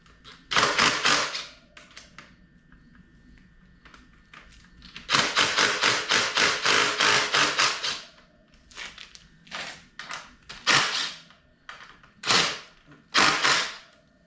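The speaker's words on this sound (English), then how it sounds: "I like to loosen the axle nut first. This is a 22 millimeter. And our pinch bolts here." A ratchet wrench clicks in quick bursts while loosening a 22 mm axle nut and the pinch bolts on a crashed dirt bike's front end, with pauses between the rapid ratcheting runs.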